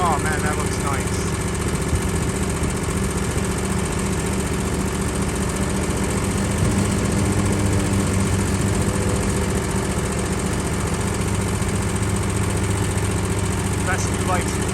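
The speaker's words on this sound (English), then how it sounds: "let me finish mowing" A petrol lawn mower engine drones loudly and continuously up close, with a steady rumbling hum as it keeps mowing a fescue lawn.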